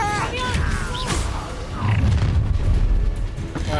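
A Confringo spell explosion in the Hogwarts Legacy video game bursts out as a heavy booming blast with rumbling low impacts that carry on for a couple of seconds, layered over game effects and voices.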